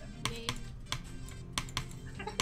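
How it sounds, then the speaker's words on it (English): Quiet clicks from a computer keyboard being hit during a level race: around seven crisp taps at irregular spacing over a soft steady hum, with no voices. "It's like spamming their keyboard."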